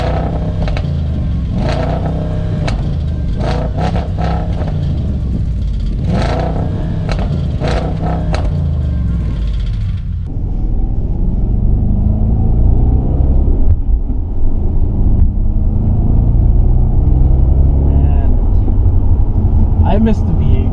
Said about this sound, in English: if you guys haven't heard the car roar, and this is like inside the car